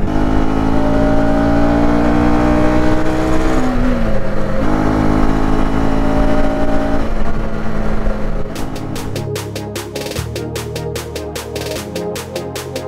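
A KTM motorcycle engine on a road ride, a loud steady drone with rising and falling revs, then a change in texture near the end with rapid sharp ticking pulses over the lower hum.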